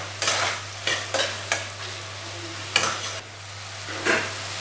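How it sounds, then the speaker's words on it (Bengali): Ginger paste fries in a pan as a spoon scrapes and stirs it, producing a series of bursts of sizzling with scraping strokes over a steady background hum, with no talking. "তো আমি এখানে হাফ টিস্পুন আদা বাটাও দিয়ে দিলাম। এটাকে এর সাথেই আমি একইভাবে একটু ভেজে নেব।"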